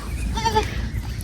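A goat bleats once, a short wavering call near the middle of the moment, heard close over steady outdoor background noise on a home farm.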